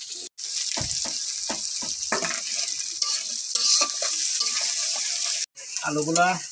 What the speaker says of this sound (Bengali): আলুটা একসাথে দিয়ে দিচ্ছি। ওটা যদি একটু ভাজা হয় তাহলে খাবারটা একটু টেস্ট হবে।